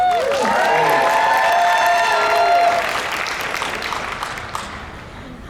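A crowd claps and cheers loudly, with whoops and shouting voices, the applause fading toward the end.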